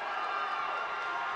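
Crowd cheering at a 160-pound wrestling match at the 2012 DoDDS European Wrestling Championships, a steady, fairly faint roar of many voices filling a gym, with no single voice standing out.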